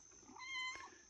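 A kitten gives a single short, faint meow, heard alone and close by.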